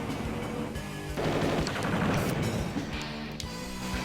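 A tank is attacked and destroyed in the game Advance Wars: Dual Strike, heard as a burst of rattling gunfire and crashing impacts over a steady game soundtrack.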